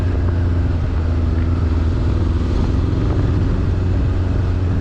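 A Honda Blackbird motorcycle rides over rough Joburg roads, its engine a steady, loud, close drone mixed with constant wind rush and no break throughout.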